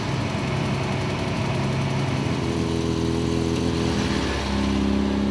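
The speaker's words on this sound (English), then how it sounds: "Engines warmed up" Several rally car engines warming up and idling in a car park during a LeJog event, a continuous rumbling drone with steady low hum and a slight pitch shift near the end, loud and close with no voices.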